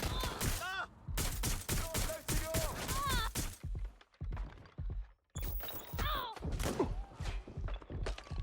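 Gunfire in the video game Watch Dogs Legion crackles in dense bursts of sharp, repeated shots and thuds, loud and close, with shouted voices cutting in between the volleys.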